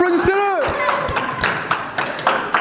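Scattered claps from an audience welcoming the next participant on a show mix with a loud, lively voice talking over them.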